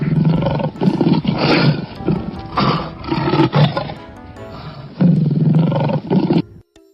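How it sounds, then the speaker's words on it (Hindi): A lion roars repeatedly, loud and close, in a series of deep, rough bellowing calls separated by short gaps and heard alone. "lion"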